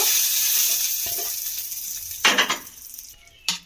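Hot tempering spices (tadka) poured into a bowl of chutney, giving a steady bright sizzle and hiss that fades slowly, with a couple of short louder crackling bursts near the end.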